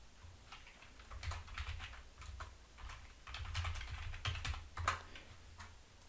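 Quiet computer keyboard typing, uneven bursts of soft key clicks in quick clusters, close and fairly faint with brief pauses between runs.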